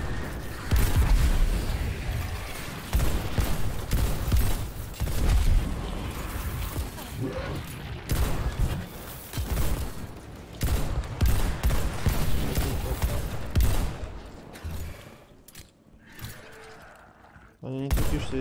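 Gunfire in Destiny 2: Forsaken, dense bursts of shots and booming impacts through most of the stretch, with spoken voices over the action and a quieter lull near the end.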